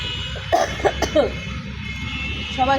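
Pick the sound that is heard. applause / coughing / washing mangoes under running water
coughing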